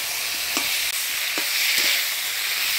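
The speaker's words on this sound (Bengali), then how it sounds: "বাটা মশলা দিয়ে দিলাম, এবার ভালো করে নাড়াচাড়া করে নিই।" Bottle gourd shoots, potato and eggplant being stirred with ground spice paste in a pan, a steady sizzle with a few soft scraping strokes of the spoon, close and alone.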